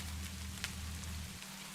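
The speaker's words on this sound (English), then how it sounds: "Listening to rain hit the roof really puts me in mind for a nap." Rain hitting a roof as a steady soft hiss of drops, faint and even throughout, with a low hum underneath.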